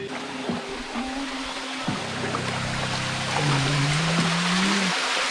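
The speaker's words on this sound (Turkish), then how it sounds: "Mağaranın içindeyiz. Üstümüzden şelale atıyor." Steady, broad rush of a waterfall pouring over a cave on the coast at Kabak Bay near Fethiye, heard from inside the cave as a continuous hiss, with faint low tonal hums over it.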